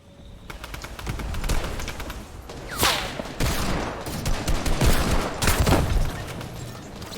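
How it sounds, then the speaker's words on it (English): A video game assault rifle fires in bursts amid a dense exchange of gunfire, with several sharp, loud cracks standing out over continuous rattling shots and no voices. "I can get this guy with the assault rifle"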